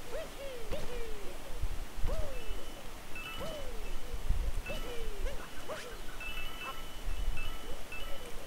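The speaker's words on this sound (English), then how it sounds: "Let me possess the bird." Bird in the video game Super Mario Odyssey giving repeated falling hoots, about five evenly spaced calls over a steady low game background.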